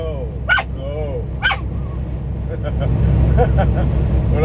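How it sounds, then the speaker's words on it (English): A dog gives two short, sharp barks early on, fairly close, over a steady low road and engine rumble inside a moving truck on an interstate highway. "I watch his mouth to see when he's getting ready to bark"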